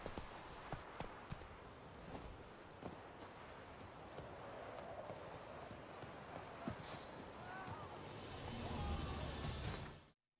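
Roach the horse galloping in The Witcher 3, a steady rhythmic clip-clop of hooves over ambient game sound, ending in an abrupt cutoff.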